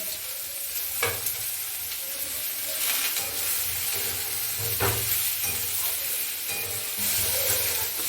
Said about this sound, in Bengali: পেঁয়াজ আর টমেটোটা একসঙ্গেই ফ্রাই করব।